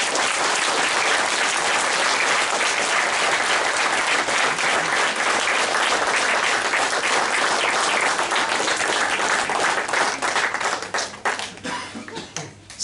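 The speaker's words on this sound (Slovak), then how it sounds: "Naozaj vám všetkým ešte raz obrovský potlesk." An audience at a Nativity devotion in Nitra-Kalvária breaks into loud, sustained applause, a dense wash of clapping that carries on for about ten seconds before thinning out to a few scattered claps.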